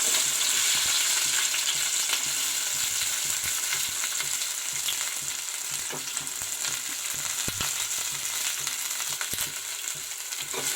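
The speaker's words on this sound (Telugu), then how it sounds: "ఇక అమ్మ నూనె మరిగింది, ఉల్లిపాయలు, పచ్చిమిరపకాయలు వేస్తున్నాను." Onions and green chillies sizzle in hot oil for a homemade chicken curry, a bright, continuous crackling hiss broken by occasional scrapes and knocks of stirring in the pan.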